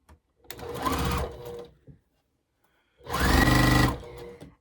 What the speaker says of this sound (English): So I will sew these together, right sides together.